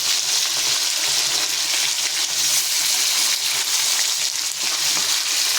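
Fish sizzling steadily in hot oil in a pan as the soft fillets are gently turned over, a loud continuous frying hiss with no talking.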